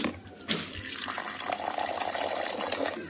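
Water running into a glass holding supplement powder, a steady splashing trickle from close by with a brief clink near the start, heard alone without talk.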